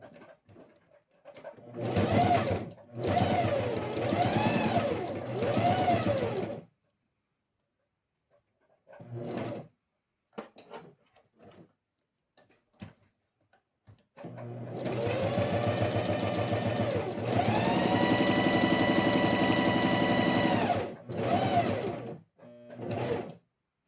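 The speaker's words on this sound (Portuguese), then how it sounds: "Vamos fazer uma costurinha na beiradinha." A sewing machine stitches along the edge of a fabric pencil case in several loud, close bursts of rapid whirring, separated by silent pauses and short handling noises.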